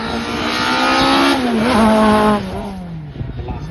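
A Super Touring race car roars past on a race track on its final lap, a loud engine note climbing then dropping in pitch as it passes close and fades away.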